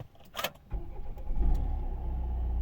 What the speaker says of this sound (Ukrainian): Чітко автомобіль заводиться.